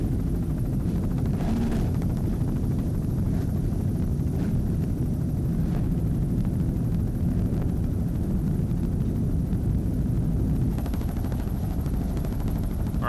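Several 38-foot Formula offshore racing powerboats at the 2002 Cape Cod Rendezvous give a continuous heavy engine roar with wind buffeting, loud and steady throughout with no pauses.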